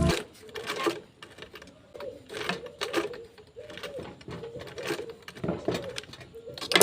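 A sewing machine back stitching while sewing a bag, running in repeated short bursts of rapid mechanical stitching separated by brief pauses, close and fairly loud.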